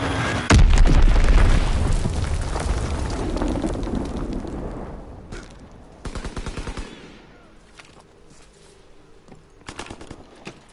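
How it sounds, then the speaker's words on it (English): A Fritz X bomb strike in the World War II shooter game Call of Duty WWII lands as a huge booming explosion, followed by a long rumble, rattling gunfire bursts and a few trailing blasts. "Fritz X bomb mission underway."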